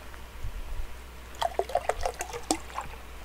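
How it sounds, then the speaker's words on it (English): Water trickles in the video game Animallica, a burst of close, gurgling plops and drips after a quieter start, with bubbly, irregular splashes clustered together. "I'm gonna get some water."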